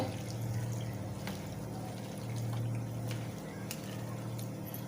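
Raw jackfruit pieces are washed in water in a kitchen, a low steady splashing and trickling with a few brief drips, moderately quiet and unbroken, with a faint hum underneath.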